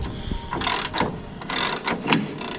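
A ratchet wrench cranks down a radius rod bolt on a Polaris RZR 1000 with several quick clicking strokes in uneven bursts, close and distinct.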